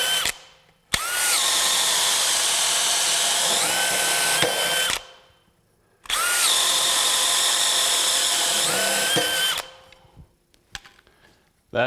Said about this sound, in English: Let's move it up and see what we can do to slow these drills down a bit.